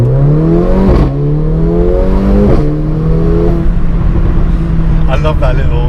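A Mercedes A45 AMG engine with an aftermarket Remus exhaust and intake revs up again and again in rising, droning climbs, then a quick fluttering turbo wastegate chirp sounds as the throttle lifts.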